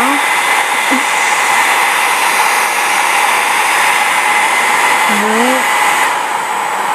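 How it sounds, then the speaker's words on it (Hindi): A handheld hair dryer blows steadily at close range, a loud, unbroken broadband whoosh with no one talking, while a faint tonal whine shifts briefly near the end. "ड्रायर यूज़ करते हैं"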